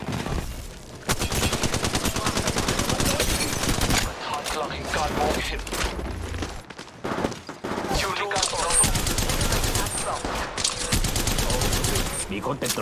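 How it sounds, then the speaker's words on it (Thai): Rapid bursts of automatic gunfire in the Apex Legends Mobile shooter game rattle almost continuously, broken by brief pauses, while a player talks intermittently. "พวกเขายิงใส่ฉันงั้นเหรอ"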